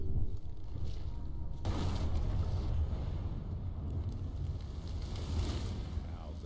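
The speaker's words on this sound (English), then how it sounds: "Now that is how you shape an explosion." An explosion in the 2022 game Evil West bursts in with a sudden loud blast, then rolls on as a sustained roaring, rumbling wash of noise that fades slowly.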